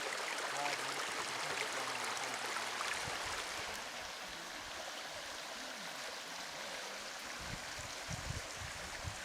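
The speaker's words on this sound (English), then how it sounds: "a little bit of a view of the creek coming down" A creek on the Eagle Rock Loop Trail rushes steadily downstream, a continuous broadband wash of flowing water that holds fairly loud and close throughout, with no voices.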